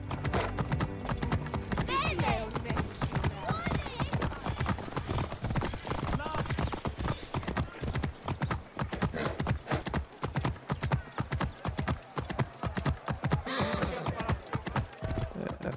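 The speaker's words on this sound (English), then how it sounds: "I wonder if I could just take my horse." A horse gallops in Assassin's Creed Origins, its hooves beating a steady, rapid clip-clop throughout, loud and close, with occasional whinnies and game sound layered over it.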